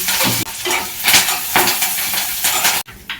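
Dried red chillies and curry leaves frying in hot oil with lentils, a loud crackling sizzle punctuated by brisk stirring strokes of a spoon against the pan, close and continuous without speech.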